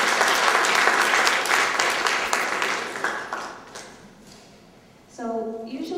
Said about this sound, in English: So let's give a big round of applause to that mission statement and to Colleen.